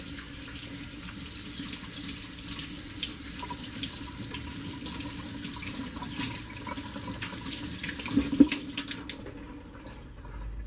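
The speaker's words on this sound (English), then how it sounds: "Let me just wash my hands." A kitchen tap running steadily as hands are washed under it, a close continuous rushing stream with slight splashing changes, stopping abruptly near the end, no talk.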